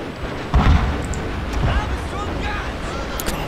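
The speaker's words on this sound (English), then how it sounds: "These Gatling guns might actually be able to fire." Cannon and Gatling gun fire from a Fall of the Samurai battle in Total War: Shogun 2, heard as a couple of deep booms and scattered bursts over a steady battlefield rumble, with a voice talking over it.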